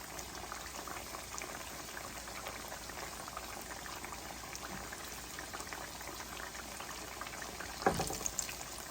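Spicy pickles deep frying in hot oil give a steady, dense bubbling sizzle throughout, with a brief louder burst near the end as more pieces drop in.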